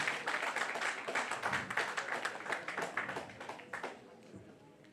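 Applause from an audience at a college event rolls on as steady, fairly faint clapping that tapers off toward the end, while a voice speaks over it.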